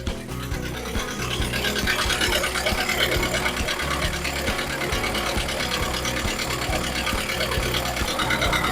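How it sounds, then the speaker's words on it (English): The small 25-horsepower Perkins diesel engine of a CAT 304.5 mini excavator idling after a full service, a steady, dense rattling chug that runs evenly and close throughout with no talking. "That is the little Perkins's motor, 25 horsepower."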